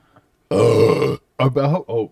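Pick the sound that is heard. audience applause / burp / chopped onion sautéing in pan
burp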